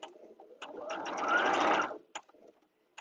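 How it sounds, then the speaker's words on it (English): A sewing machine runs a seam on pinned pieces for a Dogwood Blossoms quilt block, with a close burst of whirring that lasts about a second, framed by a few light clicks before and after. "then we can start sewing."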